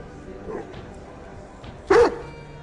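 A dog gives a single sharp bark in the video game Necromunda: Hired Gun, preceded by a faint yip, against a quiet, low background.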